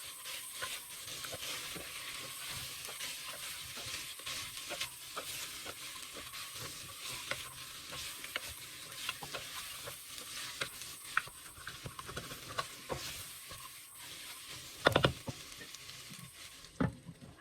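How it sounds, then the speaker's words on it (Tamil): Boiled meat is stirred with pulao powder in a clay pot, a quiet crackling sizzle broken by frequent scraping and tapping of a spoon against the pot, with one louder clatter near the end. "எல்லாத்தையும் போட்டு வடிவாக மிக்ஸ் பண்ணி கொள்ளுங்க"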